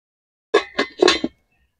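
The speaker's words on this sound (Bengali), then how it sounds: "তো আমি এবার চাপা দিয়ে দেবো।" Metal lid set onto a cooking pot of spicy snail curry, a short burst of three or four sharp clinks and rattles as it settles; close and loud, no talking.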